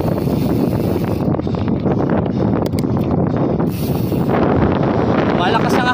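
Strong headwind buffeting the microphone during a long-distance bicycle ride, with a heavy, gusty rumble that persists throughout.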